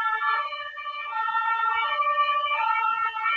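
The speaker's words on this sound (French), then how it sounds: "nous sommes en ville et il y a des sirènes" Emergency vehicle sirens wail through a city street, a loud, steady, multi-tone siren sounding close and continuous throughout.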